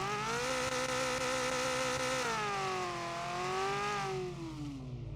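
A synthetic car engine in the game Car For Sale Simulator 2023 starts, drones and revs, its pitch climbing and dipping, loud and continuous.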